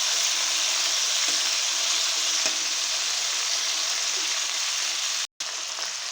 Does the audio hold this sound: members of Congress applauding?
no